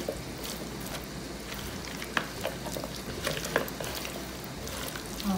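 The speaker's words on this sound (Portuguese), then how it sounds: "Agora vamos mexer bem." Food being stirred in a pan with mayonnaise, salt and lemon juice, giving a steady soft sizzle with scraping spoon strokes and a few sharper clicks.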